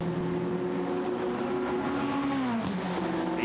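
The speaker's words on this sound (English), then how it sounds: "there the Rover Racing Porsche comes out of the Variante Ascari" Porsche GT race car at Monza during Blancpain GT Series Endurance free practice, exiting the Variante Ascari chicane, its engine note droning loud and steady before the pitch sweeps down as it passes close by, with no speech.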